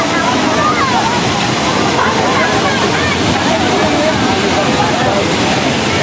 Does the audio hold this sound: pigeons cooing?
no